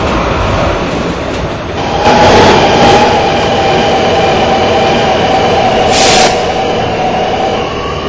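An R211P subway car runs on the R local line, a loud steady rumble and hum that swells briefly near the start, then carries on evenly with bursts of rushing noise and no voices.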